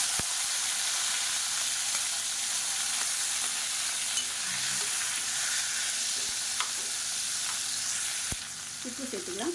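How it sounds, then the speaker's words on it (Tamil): Tomatoes sauté in hot oil for a tomato chutney, giving a steady broadband sizzle throughout, with a few faint stirring knocks and a small clatter near the end. "இப்போ தக்காளி நல்லா வதங்கிடுச்சு"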